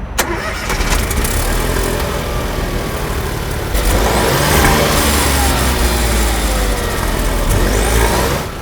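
A Smart Fortwo Ushuaia small car engine cranks and catches, then settles into a close, steady idle with a slight rise in revs, loud and without talk.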